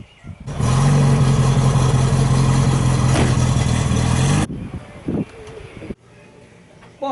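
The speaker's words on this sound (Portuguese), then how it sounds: "agora eu vou puxar o Fusquinha para trás um pouco para que a gente possa lavá-lo" Volkswagen Beetle (Fusca) engine running steadily and loud at close range for about four seconds as the car is moved backward. It then cuts off, leaving quiet with a few knocks and faint movement.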